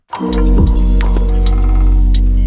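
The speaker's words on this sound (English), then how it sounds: "I stretched it and I pitched it down so it sounds like this" Artifact sound sample stretched and pitched down into a dense, sustained droning tone with layered steady partials and a low rumbling bed, with a few brief bright glints flickering over it throughout.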